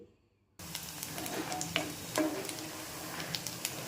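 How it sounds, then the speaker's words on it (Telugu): Onions and green chillies frying in hot oil in a pan, a steady close sizzle with occasional faint clicks and stirring taps, no voices. "ఇవి కూడా లైట్ బ్రౌన్ కలర్ వచ్చేంత వరకు వేయించుకోవాలి"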